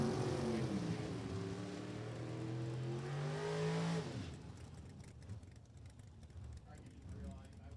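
A Ford drag racing car at Lebanon Valley Dragway roars for about four seconds with a rising engine pitch, then cuts away to a quieter rumble while an announcer talks over it.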